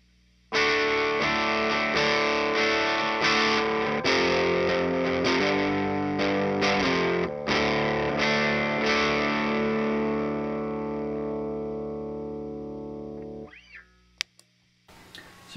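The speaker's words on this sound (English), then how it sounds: "So here's what the gain on the amp sounds like." Electric guitar through an amp's gain channel set to 1 of 10 plays a sustained chord and several struck notes with light grit, then fades out with a brief click near the end, no talking.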